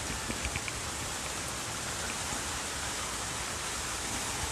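Rain from Typhoon Ambo falls in Santa Cruz as a steady, even hiss that fills the whole stretch, fairly faint and with no voices.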